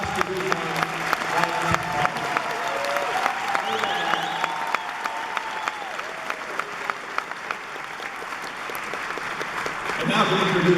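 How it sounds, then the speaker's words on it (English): An audience applauds two essay winners at an arts education honors event, sustained dense clapping from a crowd with a few sharper individual claps, loud and continuous, and a voice speaking over it briefly near the end. "please give a warm round of applause for our 2 essay winners, Josh de Guzman"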